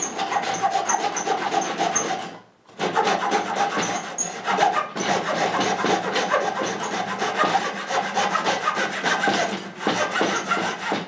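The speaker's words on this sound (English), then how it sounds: "We'll see if we can cut through a 2x4" Survival hand saw fitted with a sawzall-type blade cutting through a wooden 2x4, steady rasping back-and-forth strokes, loud and close, with a brief pause near two and a half seconds and another around nine and a half.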